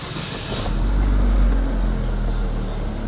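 A 1.5-litre Chevrolet Spin engine cranks and catches, then settles into a deep, steady low idle rumble heard close up.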